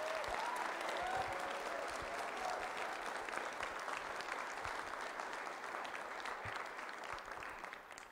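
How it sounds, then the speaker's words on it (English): A crowd at a spring concert applauds steadily, dense clapping filling the room and slowly tapering toward the end. "Let's give him a round of applause."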